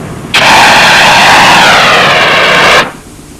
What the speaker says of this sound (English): That was a dry powder extinguisher.